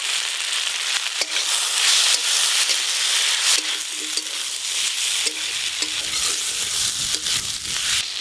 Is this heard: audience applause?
no